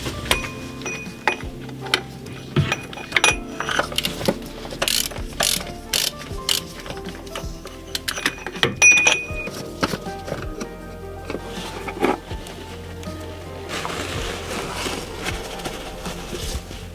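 Ratchet wrench tightening bolts to 25 Nm on a car-hauling job, rapid clicking pawl bursts in repeated strokes, close and loud, with some metallic handling noise between.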